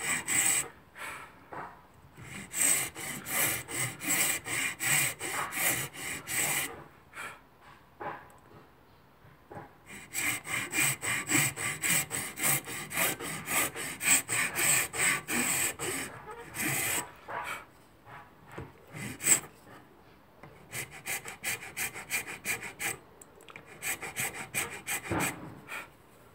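Steady back-and-forth rasping of a Nicholson file on a metal mitre plane, in long bursts broken by short pauses, close and moderately loud.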